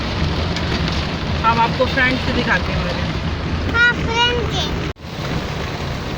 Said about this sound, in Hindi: ये देखिए जी फ्रंट से कितनी तेज़ बारिश हो रही है